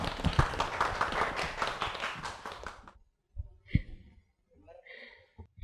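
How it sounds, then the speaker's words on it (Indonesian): A classroom bursts into dense applause for a student group after their presentation, lasting about three seconds before stopping abruptly, followed by a few soft taps and quiet murmurs. "Tepuk tangan untuk kelompok 4"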